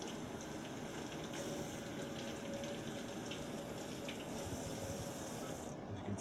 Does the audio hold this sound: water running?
yes